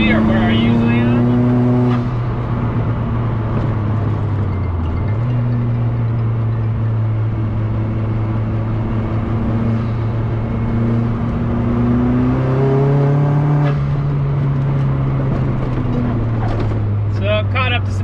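Turbocharged 1.8T engine in a VW MK2 Golf pulling in fourth gear, a steady loud in-cabin drone with pitch sagging and slowly rising, a voice talking over it near the end.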